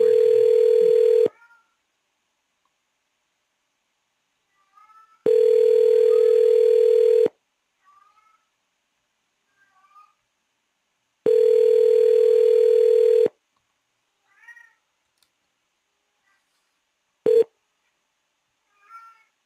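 Outgoing phone call ringing unanswered: three long, loud electronic ring tones about two seconds each with silent gaps, then a short final tone, close and clear with no talk.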